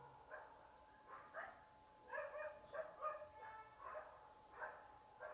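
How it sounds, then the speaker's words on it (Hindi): Several dogs barking outdoors at a distance, a ragged series of repeated barks and yips spread across the clip, fairly faint and with no talk over them. "ओ भाई साहब कहाँ भौंक रहे हैं सारे"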